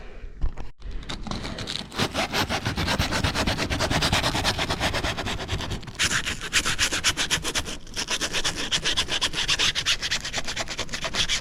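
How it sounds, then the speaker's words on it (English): Steady, continuous rubbing of sandpaper against an inflatable boat's floor, a dense scratchy sanding sound with rhythmic strokes and brief pauses near the start and around the middle, close and fairly loud, no talking. "we've got to clean the area and sand it down."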